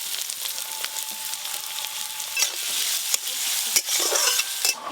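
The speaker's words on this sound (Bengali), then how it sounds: "সর্ষের তেল কড়াতে দিয়ে দেব। সর্ষের তেল, আদা, গোটা জিরে, পেঁয়াজ কুচি," Chopped onion with ginger and whole cumin fries in mustard oil in a kadai, producing a loud, even hiss of sizzling and occasional scrapes of a stirring spoon, with no talking.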